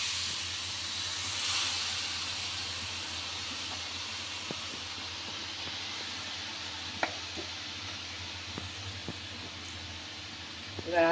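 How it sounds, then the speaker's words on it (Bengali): Sugared coconut in a hot frying pan on a gas stove gives a soft, steady hiss of low sizzling, with a few faint taps and clicks scattered through and a slight clatter at the end. "নারকেলটা যে মেখে রেখে দিয়েছি এটা এবার আস্তে করে দিয়ে দেবো।"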